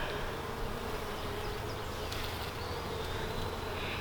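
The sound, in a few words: honey bees buzzing at a hive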